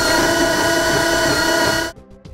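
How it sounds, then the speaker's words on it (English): A drill with a 1/2-inch bit enlarges a hole in the frame of a 2013 Hyundai Veloster during a trailer hitch installation, a loud steady whirring grind that cuts off abruptly near the end. "we're gonna use a 1/2-inch drill bit, and we're gonna enlarge the hole"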